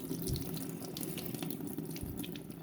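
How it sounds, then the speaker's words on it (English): Water running and draining off soaked lentils into a sink, a steady close splashing trickle with faint drips, continuous throughout and without talk. "make sure that you drain out all the water out of it"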